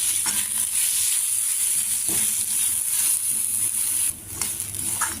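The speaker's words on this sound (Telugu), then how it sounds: "పచ్చివాసన పోయేదాకా కొద్దిగా వేయించుకోవాలి" Grated fresh coconut, slit green chillies and curry leaves fry in a pan, giving a steady, crackly sizzle broken by several scraping stirs, close and fairly loud, with no talk.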